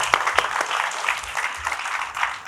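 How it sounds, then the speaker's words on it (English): An audience claps for a student at a jiu-jitsu promotion day in a gym, a short burst of several people's close applause with a few sharp individual claps standing out. "clap it up for him one more time, man"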